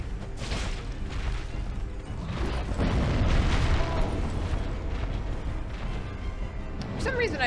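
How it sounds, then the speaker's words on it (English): Explosions from the Demon Firesage boss in Dark Souls, a rumbling succession of deep booms and crackling bursts that swell in the middle, with a voice talking over the blasts. "The explosions are new to Demon Fire Sage."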